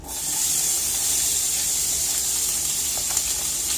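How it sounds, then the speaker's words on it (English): Onions drop into a hot pan and sizzle in a steady, close hiss that holds for a few seconds with no talking. "Okay, our pan is good and hot now. We're going to add in about half of these onions here."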